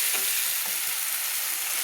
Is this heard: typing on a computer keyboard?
no